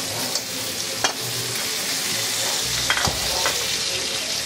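Pork pieces land in oil in a pan and sizzle loudly and continuously up close, with a few scraping stirs of a utensil against the pan.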